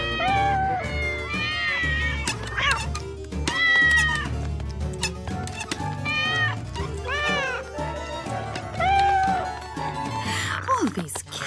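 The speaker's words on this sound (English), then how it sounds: "Oh, these cats." Animated cartoon cats meow and caterwaul repeatedly in loud, wavering cries that overlap a busy cartoon soundtrack, with speech mixed in.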